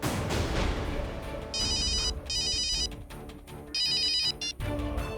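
A mobile phone ringtone plays as an incoming call in a Hindi crime drama, with repeated bursts of bright electronic tones over a busy background of low sounds and scattered bangs.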